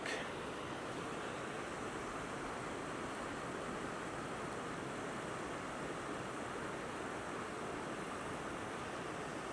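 Steady, dense rushing of a river running low and slow, continuous and fairly close, with no voices.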